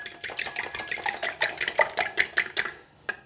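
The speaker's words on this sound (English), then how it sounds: "And we're going to beat the egg." An egg beaten briskly for a Chinese-style vegetable stir fry, a fast steady run of clicking whisk or fork strikes against a bowl, close and fairly quiet, stopping near the end.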